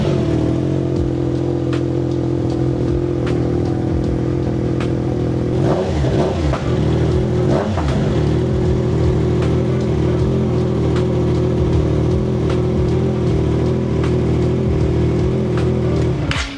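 A Triumph Trident 660 motorcycle with an aftermarket exhaust idles loud and close, with a couple of sharp throttle blips mid-way before settling back to a steady rumble.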